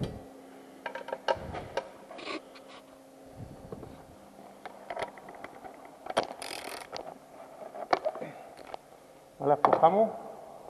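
A 10 mm wrench loosens a nut on a car's ECU, giving scattered metallic clicks and ratcheting taps with a clunk near the end, close and fairly quiet, with a voice speaking in between.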